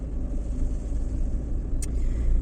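Steady low engine rumble from a car driving along, its driver struggling to shift gears despite a new clutch and clutch cable, with a brief high click near the end.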